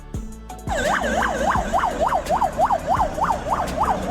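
A Russian ambulance siren wails in a steady, rapidly repeating rise-and-fall pattern, loud and close, after a brief burst of engine or road noise at the start.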